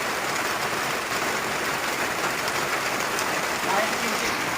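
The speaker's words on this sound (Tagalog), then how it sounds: "Lakas ang ulan, oh." Heavy rain pours down steadily as a constant dense hiss, loud and close, with no breaks across the span.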